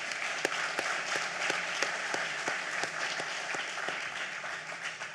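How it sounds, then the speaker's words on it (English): At a sports hall of fame ceremony, a crowd gives a steady round of applause, with a dense bed of clapping and sharper individual claps standing out in a regular rhythm nearby. "Let's give them a round of applause."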